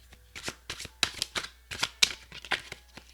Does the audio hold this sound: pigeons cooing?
no